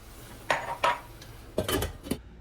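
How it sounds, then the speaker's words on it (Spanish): Metal lid set onto a cooking pot of stew, a few quiet clinks and clatters in two short bursts, close by and with no talking. "Incorporamos el agua y procedemos a tapar."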